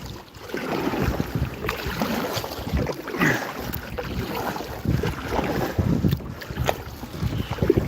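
A kayak paddled on a lake near Minnedosa on a calm evening with a slight southerly breeze: soft, irregular water swishes and splashes close by, mixed with steady wind buffeting on the microphone.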